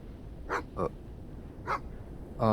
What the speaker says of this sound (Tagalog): Ang ingay ng aso na yun, oh.